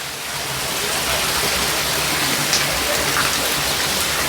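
Heavy first monsoon downpour lashing down in a steady, loud, dense roar that stays constant throughout, with no voices.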